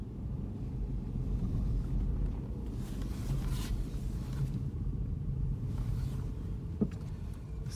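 A BMW F-series manual car in first gear with a faulty flywheel gives off a low, continuous rumbling drone from inside the cabin, with uneven shaking and a faint knock near the end.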